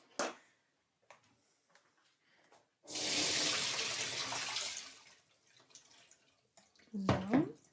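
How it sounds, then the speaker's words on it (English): Tap water runs for about two seconds while chickpeas are rinsed in a sieve in a home kitchen, with quiet handling clatter before and after and a brief voice near the end. "So I will drain them off in the water with a sieve."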